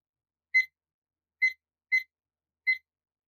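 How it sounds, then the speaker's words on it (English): A small timer sounds four short, high electronic beeps, spaced unevenly against near silence, clear and close, with no voices. "I just use a little bit of a timer."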